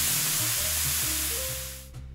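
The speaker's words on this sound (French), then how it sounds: "Faites chauffer une casserole avec de l'huile d'olive. Puis faites saisir les morceaux de bœuf." Beef pieces searing in hot olive oil in a saucepan, a steady close crackling sizzle that fades slightly toward the end.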